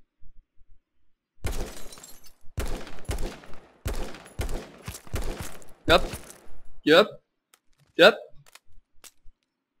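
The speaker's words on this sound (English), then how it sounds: "I'm shooting the guy from the roof." Gunfire in the H1Z1 King of the Hill shooter game, fired from a rooftop: a series of sharp, loud single shots spaced about a second apart, with a couple of later cracking shots, a brief voice heard between them.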